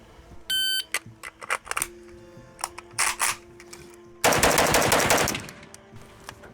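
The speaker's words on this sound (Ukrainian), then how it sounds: "Отже, е, шість пострілів." Six rapid rifle shots at a close target crack out in quick succession, sharp and loud, followed by a dense rattling volley; a short electronic beep sounds early on.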